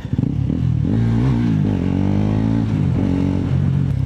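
A motorcycle engine labours loudly up a steep road toward Antipolo, its steady droning note rising and wavering as it strains under load, with no talking over it.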